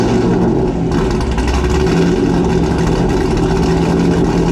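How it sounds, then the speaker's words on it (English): A modified 580-horsepower LS3-swapped C5 Corvette engine starts and revs, a loud, steady, deep roar close by that climbs as the throttle opens and holds at high volume throughout. "let's go ahead and start this car up and get it on the road"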